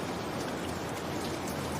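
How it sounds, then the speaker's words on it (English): Gentle rain patters steadily on a roof, a soft, even hiss of drops with no thunder or wind, continuous and close throughout. "Rain taps gently on the roof."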